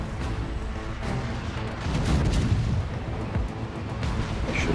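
Deep, rumbling naval gunfire from a tier 10 battleship battle in World of Warships, with dull booms rolling continuously under a dense, sustained low roar.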